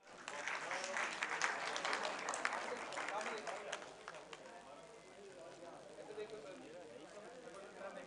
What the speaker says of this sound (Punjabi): ਲਓ ਜੀ, ਤਾੜੀਆਂ ਤੁਹਾਡੀਆਂ।